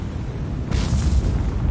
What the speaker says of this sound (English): Major secondary explosion.